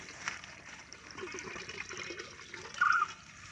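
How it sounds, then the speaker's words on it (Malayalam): Water runs and trickles steadily from a pipe into an aquaponics grow bed, fairly quiet and continuous, with a slightly louder gush near the end. "ഇത് ഇവിടുന്നാണ് ഈ വെള്ളം വരുന്നത്"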